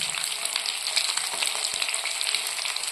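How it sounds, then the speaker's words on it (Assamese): Rohu fish pieces frying in hot mustard oil for a mustard fish curry, a steady close-up bubbling sizzle with crackling spits and an occasional stir. "মাছখিনি ফ্ৰাই হৈছে এতিয়া"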